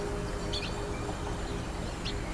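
Two brief, high chirps from birds rise over a steady outdoor hiss, with a quiet gap between them.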